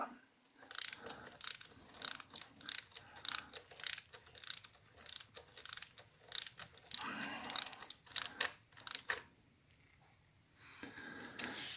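Ratchet clicking while tightening bolts on a Harley-Davidson primary cover, quick irregular runs of faint metallic ratcheting with short pauses between strokes, close, no talking.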